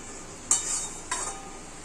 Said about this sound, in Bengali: একটু ভালো করে নাড়িয়ে চাড়িয়ে নেবো এইভাবে